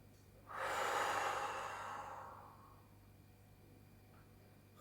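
One slow, deep breath during a sophrology relaxation exercise, drawn in loudly and released over a few seconds before fading into a quiet room.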